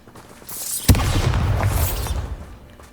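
Bombarda spell blasting pumpkins in Hogwarts Legacy, a sharp sudden blast followed by a rumbling, crackling burst that fades over a second or so.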